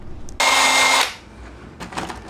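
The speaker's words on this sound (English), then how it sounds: "I'm going to go ahead and drill 4 pilot holes and then just screw it down" A power drill whirs in one steady burst of about half a second, boring a pilot hole to mount an aftermarket rear speaker in a 2022 Subaru, and then cuts out to a quiet shuffle.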